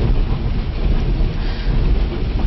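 The White Pass & Yukon scenic railway train rumbles steadily through a cold northern landscape, with a dense, continuous roar of wheels on track heard from inside the carriage. No talk is heard.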